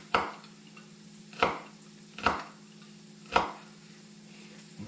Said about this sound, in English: then we're going to chop up these peppers real small